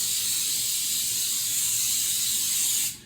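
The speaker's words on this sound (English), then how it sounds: "we're just going to spray this pan." Cooking spray hissing onto a kitchen pan in one continuous, close burst lasting about three seconds, then cutting off abruptly.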